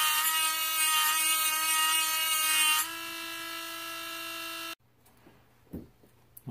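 A small rotary tool whines at high pitch while thinning out the thick wheel wells of a model car body, dropping to a lower speed before cutting off, followed by faint handling noises.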